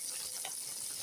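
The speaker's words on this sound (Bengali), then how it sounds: "উল্টে পরে নাড়াচাড়া করা হচ্ছে" Cauliflower pieces fry and are stirred in a pan, giving a faint, steady sizzle with a brief scrape of stirring partway through.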